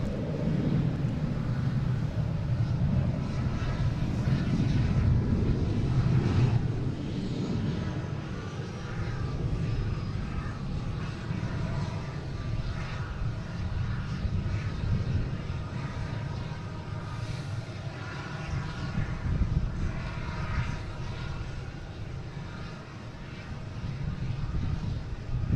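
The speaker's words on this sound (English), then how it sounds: "we got this plane coming in from Barcelona, an A330" An Airbus A330 airliner arriving from Barcelona at Boston Logan International Airport produces a continuous low jet rumble that swells and fades over about half a minute, heard alone at a moderate distance.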